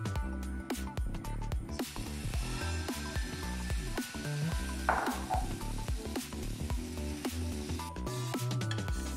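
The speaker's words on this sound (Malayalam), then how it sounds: "ഇനി നമുക്ക് നമ്മുടെ മാവ് ഇതിലേക്ക് ഒഴിച്ചു കൊടുക്കാം." Dosa-style batter poured onto a hot, oil-brushed pan, a steady sizzle and frying crackle with scraping and clinks of utensils, close and moderately quiet, no talk.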